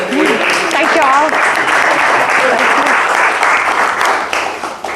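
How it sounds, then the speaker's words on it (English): A roaring round of applause from an audience at a talk, loud and sustained, with a voice calling out over the clapping near the start. "Another round of applause"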